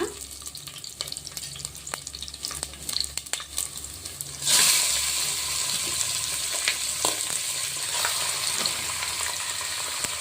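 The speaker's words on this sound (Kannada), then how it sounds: "ಎಣ್ಣೆಯಲ್ಲಿ ಚೆನ್ನಾಗಿ ಫ್ರೈ ಆಗಬೇಕು ಮಟನ್ನು" Mutton hits hot oil with fried onion and a ground ginger-garlic paste for sambar, setting off a sudden loud hiss after a few metal clinks and rustles, then a steady close sizzle that carries on alone.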